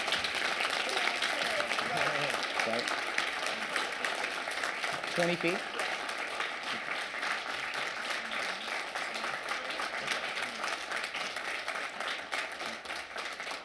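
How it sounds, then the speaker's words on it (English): Audience applauding a speaker at a medical school Martin Luther King event, sustained dense clapping for over ten seconds with a few brief spoken words mixed in. "Let's all give him a great round of applause here."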